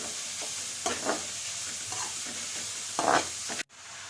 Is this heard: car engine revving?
no